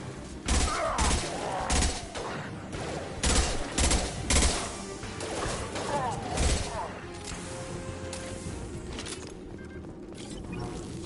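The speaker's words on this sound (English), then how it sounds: "Firing now." Sustained gunfire in the video game Mass Effect 2, a dense battle of repeated shots and mechanical clatter, with voices talking through the fighting.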